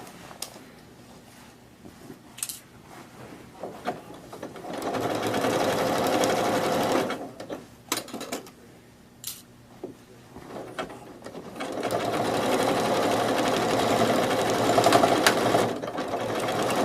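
A sewing machine stitching fabric, humming in two sustained runs with clicks and short pauses in between, close up and moderately loud.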